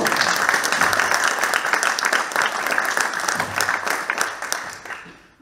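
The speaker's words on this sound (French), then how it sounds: "Merci de les applaudir à nouveau." An audience claps loudly and steadily in a dense burst that thins and fades away toward the end.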